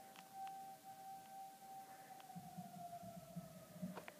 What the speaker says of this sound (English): they're testing the tornado sirens just in time